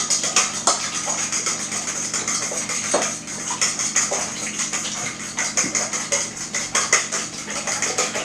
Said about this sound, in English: So we're going to whisk these up.